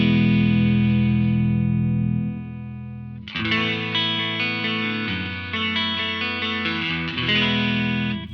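A sustained distorted electric guitar chord rings out through a sidechain high-pass compressor, then fuzzy, buzzy strummed chords follow with thin, bass-light tone and heavy saturation.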